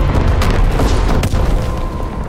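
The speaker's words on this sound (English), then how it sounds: "Incoming enemy artillery." A loud, sustained rumbling boom of an artillery shell explosion in the World War II shooter game Call of Duty: WWII, heavy low-end roar filling the whole moment with scattered crackling debris on top.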